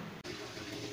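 Water pours steadily into the tub of a VON 10kg semi-automatic twin tub washing machine, a continuous close rushing fill with one brief dip near the start and no talk.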